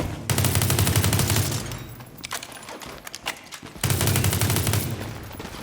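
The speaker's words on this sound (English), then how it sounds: "only to have pop gun sounds" Thin, popping automatic gunfire in the shooter game World War 3, two long sustained bursts of rapid shots with a stretch of scattered single cracks and clatter between them, loud and close.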